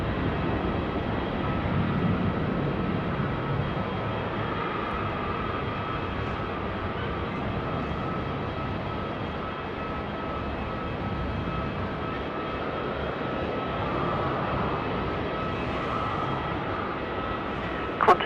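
Airliner landing on runway 16 right at Sydney Airport at night, a steady broadband jet roar that holds evenly throughout and swells slightly toward the end.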